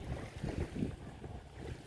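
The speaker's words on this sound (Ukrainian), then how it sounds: "Це після моторки такие хвыли" Small river waves lap and wash against a canoe on the Teteriv river after a passing motorboat, a steady close splashing mixed with wind buffeting the microphone, with no one talking.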